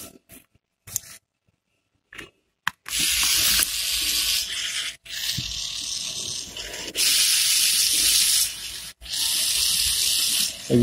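Small DC motors driven through an L298N driver board and an Arduino whir steadily after a quiet start, with brief breaks as they switch between a fast clockwise and a slower counterclockwise spin.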